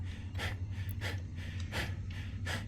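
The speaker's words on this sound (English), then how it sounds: "We can stop the heavy breathing now." A video game character's heavy breathing from Cataclysm: Dark Days Ahead, a steady run of loud, close, rasping breaths, about six in under three seconds, with no talk over it.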